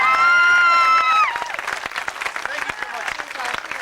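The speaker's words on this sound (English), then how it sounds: "And listen to that crowd." A live audience at a 1993 stunt danger show erupts in loud cheering and whistles, then settles into dense, sustained applause with sharp, steady clapping that keeps going throughout.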